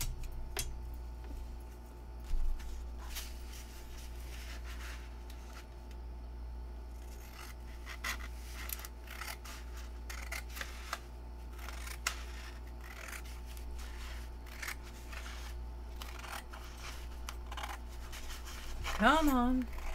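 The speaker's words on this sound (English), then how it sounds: "that's gonna get cut with a pair of scissors" Scissors snipping through a sample page from a wallpaper book, quiet scattered cuts and rustling paper scrapes in a room with a low hum, ending with a brief voice.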